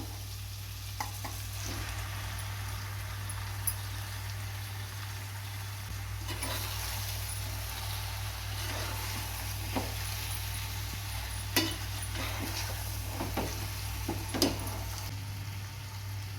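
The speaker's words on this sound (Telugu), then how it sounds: "ఇప్పుడు ఈ చేపలు వేసుకుంటున్నాను" Fish pieces frying in a pan for a curry, a steady sizzle with occasional stirring clinks and splutters, close and continuous, with no talking.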